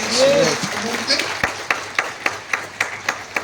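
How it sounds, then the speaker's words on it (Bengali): A church congregation applauds newly appointed pastors, starting just after a voice speaks. The claps are sparse and evenly spaced, coming in about eight distinct claps over a few seconds. "আমরা কি তাদের জন্য হাততালি দিতে পারি?"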